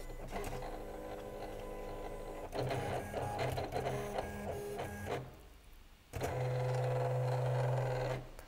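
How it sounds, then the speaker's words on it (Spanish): A Silhouette Portrait 3 cutting machine runs a test cut on cardstock, its motor whirring in bursts with a steady mechanical hum, briefly pausing near the middle before starting up again louder. No one speaks. "La máquina lo que va a hacer es graduarse a el valor de cuchilla 3 y empezar a cortar la prueba."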